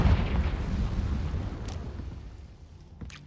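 Confringo spell explosion in Hogwarts Legacy, a heavy low boom that rolls and fades over a few seconds, with a couple of faint crackling pops near the end.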